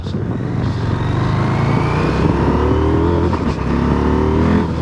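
A 2023 KTM 890 SMT motorcycle being ridden, its engine droning loud and close throughout with rising revs and shifting pitch as it accelerates, with no talking.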